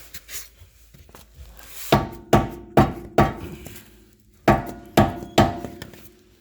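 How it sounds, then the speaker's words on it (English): Sharp metallic hammer blows on an outer tie rod nut of a Honda Prelude, a couple of light taps then a run of seven loud, evenly spaced strikes ringing close by. "I threaded it in backwards, hit it with a hammer"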